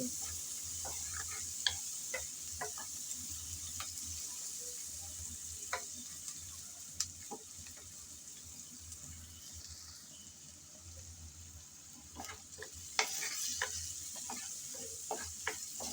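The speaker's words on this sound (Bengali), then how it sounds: "পেঁয়াজ কুচি দিয়ে নেড়ে চেড়ে হালকা করে ভেজে নিচ্ছি" Chopped onions frying in oil for a mixed small sea-fish curry, with a steady soft sizzle and occasional scrapes and clicks of stirring, heard close and fairly quiet without talk.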